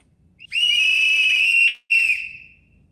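Whistles blown by protesters in a loud, shrill sustained blast lasting over a second, then a short break and a second blast that fades out, with no voices.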